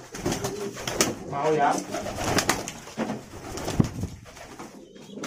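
Young pigeons being paired up give soft, low courtship coos in short bursts, close by, mixed with handling noises and someone talking throughout.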